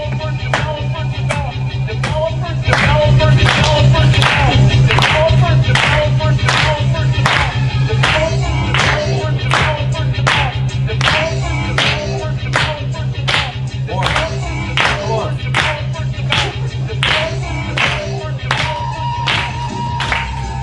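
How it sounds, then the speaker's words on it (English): Audience at a Codefest tech conference claps along in a steady rhythmic beat, sharp evenly spaced claps continuing for the whole stretch over a low crowd hum. "Clap your hands with him."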